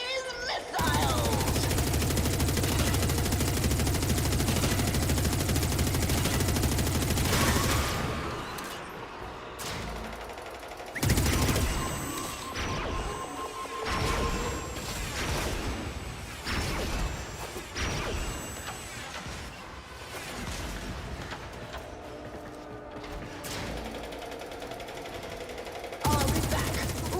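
A dense, loud barrage of missile launches and explosions roars continuously in the Warframe video game, then gives way to scattered bursts of impacts, whooshes and mechanical clanks.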